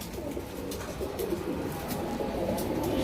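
Soft, low pigeon cooing repeats a few times over faint background noise, fairly quiet and close.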